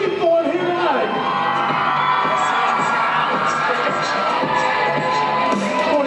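A crowd at a strength-feats show screams and cheers continuously, loud and close, with shouts and whoops layered through the roar.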